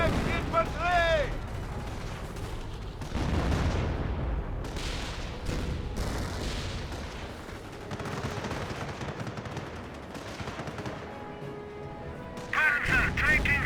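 Gunfire in Company of Heroes 1, with bursts of machine-gun and rifle fire and heavier booms at moderate loudness, mixed with battle noise and brief voice callouts.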